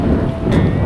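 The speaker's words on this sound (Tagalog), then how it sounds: "Lakas ng hangin." Strong wind buffets the microphone during a bike ride along a highway, a loud, continuous low rumbling roar with no break.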